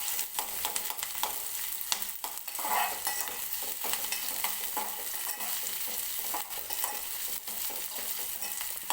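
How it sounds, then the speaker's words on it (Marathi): Onion roasts in hot oil in a pan for a kat vada masala, a constant close sizzle with frequent spatula clicks and stirring scrapes throughout, nobody speaking. "एक 2-3 मिनिटे हा कांदा जो आहे तो तेलामध्ये व्यवस्थित भाजून घेते"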